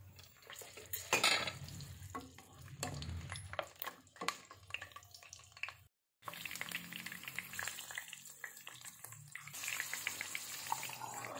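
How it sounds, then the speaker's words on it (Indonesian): Oil sizzles and crackles steadily as large slit chilies fry in a pan, with brief stirring and utensil clatter, a short pause in the middle, then continued frying hiss. "Setelah panas masukkan lombok besar yang sudah disayat-sayat sedikit tadi."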